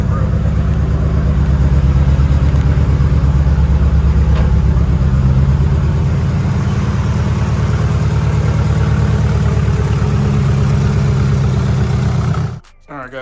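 A fully built 2.2L Mitsubishi Evo 9 engine idles with a misfire, giving a loud, steady, close low rumble under a voice before cutting off abruptly near the end.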